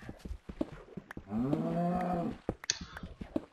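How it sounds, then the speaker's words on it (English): Minecraft cow mooing, one drawn-out low moo lasting about a second, nearby, set among scattered clicks and clatter from digging stone. "Would you be quiet, cow? Seriously?"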